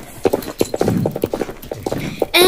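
A Mawari horse in the Star Stable video game clip-clops across a bridge, its hooves striking in a quick, regular rhythm, loud and close, with no talking over it.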